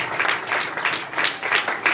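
Applause from a church congregation giving thanks to the Lord, dense clapping in rolling waves that swell and ease over two seconds, steady and moderately loud with no voices on top.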